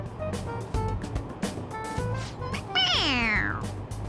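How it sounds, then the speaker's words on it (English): A toy creature in the video game Persona 5 Royal lets out a bright, rising-and-falling cat-like meow when pressed on its head, heard once near the end over a low hum and light background game sounds. "It meows when you press on its head."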